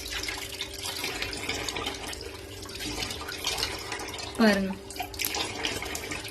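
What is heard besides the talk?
tap water running while washing the face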